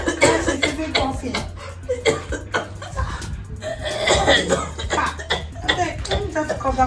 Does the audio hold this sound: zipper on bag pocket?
no